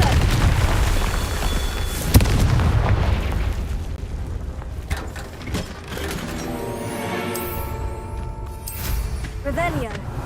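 Confringo fire spell explosions in Hogwarts Legacy go off as a loud boom near the start, followed by crackling magical bursts and rising sparkly tones over a continuous dense game mix.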